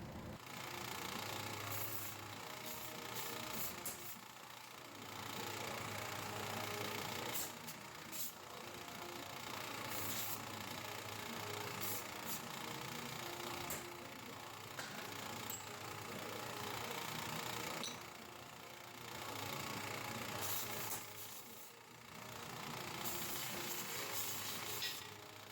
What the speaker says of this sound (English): the small belt grinder. Here, I take off all the burrs from the cut edges